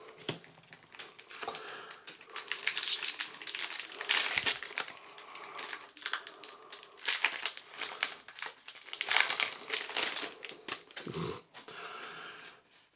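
Foil booster packs of Magic: The Gathering War of the Spark cards being torn open and handled, giving close, repeated crinkling and crumpling of foil wrappers in irregular bursts, with no talk.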